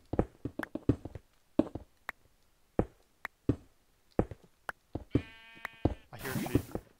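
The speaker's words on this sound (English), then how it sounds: "I hear a sheep." A blocky video-game sheep bleats in a survival match, with a few short bleats among scattered clicks, taps and footsteps, then a crackling burst near the end.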